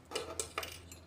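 Small toy kitchen pots and utensils clink and tap as they are set in place, a few light knocks spaced apart, close and soft.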